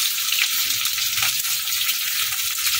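Potato and pointed gourd pieces fry in a pan, with a steady close sizzle and stirring scrapes throughout and no voices.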